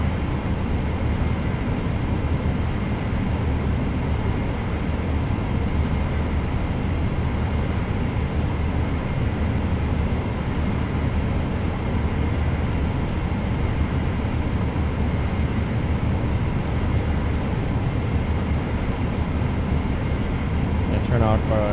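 An airliner taxis to a runway at Lisbon in Microsoft Flight Simulator 2024, its engines a steady low droning rumble throughout, with someone talking over the engine noise.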